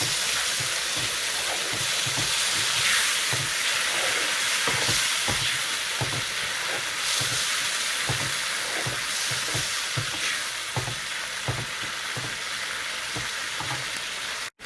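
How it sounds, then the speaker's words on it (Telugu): Constant hissing sizzle of eggplant frying in a pan, with regular soft thuds and scrapes of stirring underneath, close and even throughout. "ఇవి కొంచెం వేసుకోగానే చక్కగా వంకాయలు వేగుతున్నాయి కదా"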